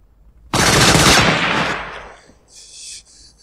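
A sudden loud burst of sniper gunfire in a war movie cracks and rolls into a fading echo, followed by a faint high ringing tone.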